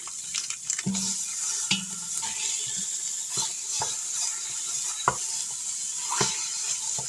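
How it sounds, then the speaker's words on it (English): Chorizo browns in a pan with a continuous soft sizzle, broken by sharp clicks and scrapes as a utensil stirs the meat against the pan, with no voices. "just browning this chorizo"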